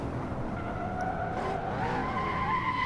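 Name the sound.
race car skidding under late braking in a racing video game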